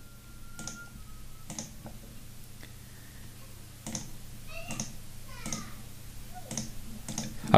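Mouse clicks placing pins on a figure in Photoshop's Puppet Warp tool, a series of sharp, close, evenly spaced clicks over a low background hum with no talking.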